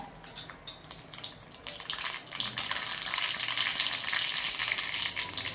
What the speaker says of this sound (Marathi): मोहरी टाकूया